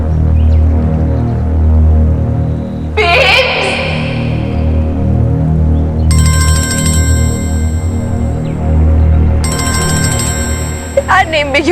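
A phone ringtone rings in repeated electronic bursts over a steady background of music and talk, louder and brighter in two long stretches.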